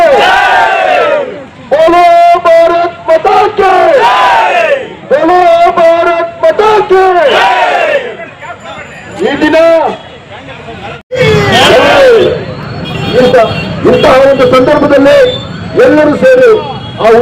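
A large crowd at a gathering following the Pahalgam attack on Hindus chants Bharat Mata ki Jai in loud, rhythmic call-and-response bursts. Massed voices roar in repeated waves, close and dominant, with a brief drop before the chant resumes.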